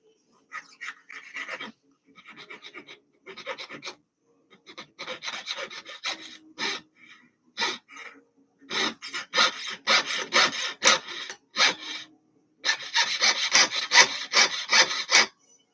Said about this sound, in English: I think it might be the superior way to use a hacksaw.